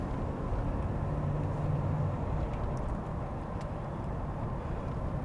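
A 1987 Pontiac Trans Am GTA accelerating on a road, heard as a steady low engine rumble and road roar from inside the car, with a slight drop in level partway through.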